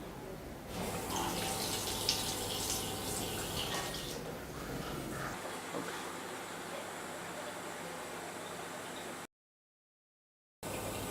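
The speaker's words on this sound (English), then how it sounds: "At the push of a button you can achieve the water you want." Water runs from a Zip Hydro Tap into a sink, a faint steady hiss and splash that continues for several seconds, changes character partway through, then cuts off briefly before resuming.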